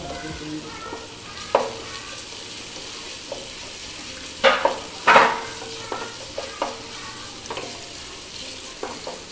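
Rice sizzles and fries with tomato in a pan while being stirred; a continuous soft sizzle with several sharp scraping stirs and clatters, close by, with no talk.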